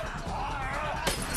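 Glass wine bottles shatter during a fight scene in The Raid 2 (2014): a single sharp, bright crash bursts out near the end, layered over dense film audio and background talk.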